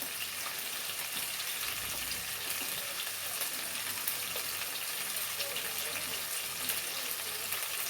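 Spices dropped into hot oil for butter chicken set off a steady, bright sizzle that fries continuously throughout, fairly faint and even with no breaks.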